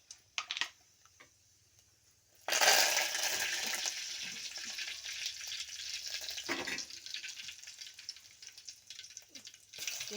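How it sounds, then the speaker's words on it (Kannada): Cumin and mustard seeds hit hot oil, setting off a sudden loud sizzle after a couple of soft clicks, then a crackling fry that settles to a steady hiss with another brief flare midway. "ಈಗ ಎಣ್ಣೆ ಕಾಯ್ದದ್ರಿ. ಜೀರಿಗೆ ಸಾಸ್ಮೆ ಹಾಕೊಳ್ಳೋದು ನೋಡ್ರಿ."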